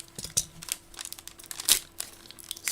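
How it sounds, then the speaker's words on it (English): A sealed baseball trading card pack is cut open at close range, with repeated crinkling and tearing of the foil wrapper in uneven bursts and no talking. "his pack that I have to cut open"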